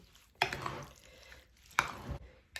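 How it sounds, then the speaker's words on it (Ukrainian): A spoon stirring thick pearl barley kutia with a splash of boiling water, two soft scraping strokes against the bowl, quiet and close. "Отак перемішуйте."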